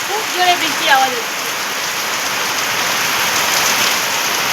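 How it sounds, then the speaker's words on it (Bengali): Heavy rain pours down loudly and steadily, a dense continuous roar of water; a few brief voices are heard under it near the start. "খুব জোরে বৃষ্টির আওয়াজ হচ্ছে।"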